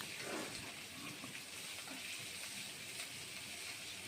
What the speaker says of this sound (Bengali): এবারে মশলাটাকে ভালোভাবে কষিয়ে নিচ্ছি